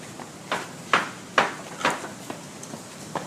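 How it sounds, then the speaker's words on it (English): Knocking at a door in a staged performance of Macbeth: a series of sharp, resonant knocks, about six spaced raps of varying strength, heard fairly close in a quiet room with no talk. "Whence is that knocking?"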